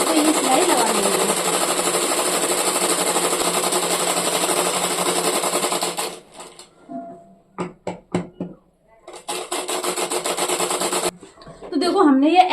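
A sewing machine runs steadily and loudly while stitching a lined blouse, stops for a few seconds of light tapping and handling, then starts again, with a voice talking near the start and end.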